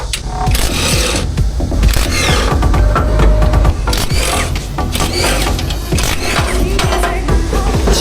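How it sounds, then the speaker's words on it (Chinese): Ruiba cordless lithium wrench driving screws in a tight space during a radiator replacement at a highway service area, a loud, busy mechanical whirring and ratcheting rattle that runs continuously with short bursts and pauses. "对于这种狭小空间的螺丝，这把扳手也能做到游刃有余。"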